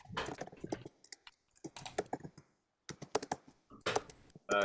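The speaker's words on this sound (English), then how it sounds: "someone is typing" Keys clack on a computer keyboard in uneven bursts of quick taps separated by short pauses, close and fairly crisp, with no voices over them.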